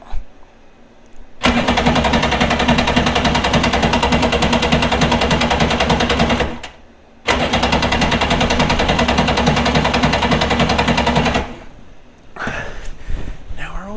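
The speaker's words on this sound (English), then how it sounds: "I'm going to work with my left hand and see if I can get it to turn over with the choke" A jet ski engine left sitting for three years cranks with the choke on, two long loud bursts of fast rhythmic starter churning separated by a brief pause, then quieter rattling and clatter at the end.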